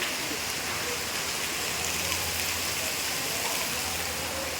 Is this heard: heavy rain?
yes